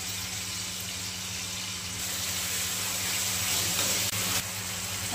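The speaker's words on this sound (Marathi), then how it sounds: "आता त्याला मस्त तेलात परतून घ्यायचं" Red chilli chutney ingredients sautéing in hot oil in a pan, a steady close hiss and sizzle running evenly without a break for a few seconds, with no voices over it.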